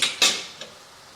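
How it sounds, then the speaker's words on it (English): A few quick metal-on-bowl scrapes and clinks as canned sardines with their juice are stirred and broken up in a bowl, three short bursts fading within a second, close and fairly quiet. "And then I'm going to stir that around."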